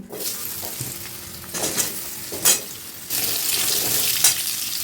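Potatoes fry in oil with a pinch of asafoetida, a hissing sizzle that swells in bursts and then grows louder and steadier toward the end.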